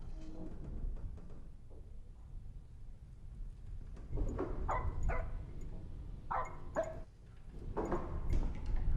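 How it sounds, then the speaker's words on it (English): A dog barks in several sharp clusters, fairly faint and somewhat distant, over a low background rumble, with no speech over it. "The dog's barking, mate."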